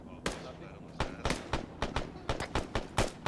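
Gunfire in the military shooter Arma near a barn: sharp shots in an irregular burst of a dozen or so, fairly close, with a voice talking over them.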